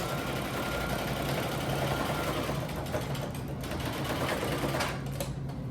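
A sewing machine stitches fabric nearby with a continuous, fast mechanical whir that stays steady and fairly loud throughout.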